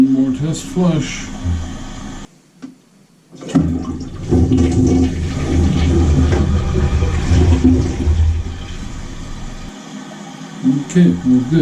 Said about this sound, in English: One more test flush.